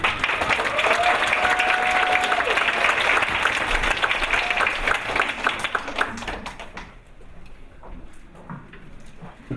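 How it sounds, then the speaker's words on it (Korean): An audience at a university essay contest final claps and cheers steadily and loudly, with a brief tonal call partway through; the applause thins and fades to scattered claps near the end. "큰 함성과 응원의 박수로 본대회를 시작하도록 하겠습니다."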